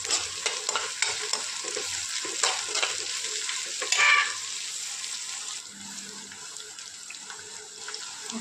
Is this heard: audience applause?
no